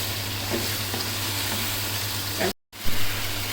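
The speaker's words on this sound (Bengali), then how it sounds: "এখন এটাকে আমি আরও ভালো মতন কষিয়ে নিব কিছুক্ষণ যতক্ষণ না আপনার এই মশলার কাঁচা স্মেলটা চলে যাচ্ছে" Spices sizzle and fry steadily in a hot pan while being stirred for Afghani Kabuli pulao, a close, continuous crackle with a brief dropout to silence near the end.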